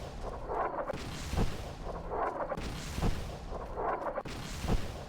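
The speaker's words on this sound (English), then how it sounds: "Are they artillery barraging me?" An artillery barrage in Fallout: New Vegas, a rolling series of heavy booming explosions and sharp blasts repeating every second or so, loud and echoing over a rumbling background.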